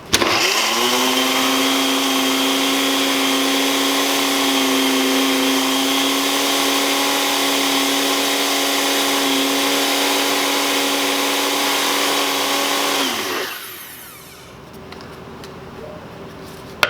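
An electric grinder or blender milling ayahuasca brew ingredients to a fine powder runs as a loud, steady whine for about thirteen seconds, then winds down and stops, leaving faint quiet.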